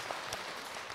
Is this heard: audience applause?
yes